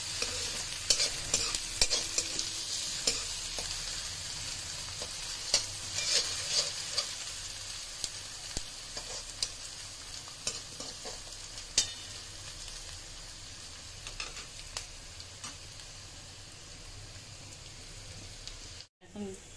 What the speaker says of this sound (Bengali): Golden brown. একটু নাড়াচাড়া করতে হবে।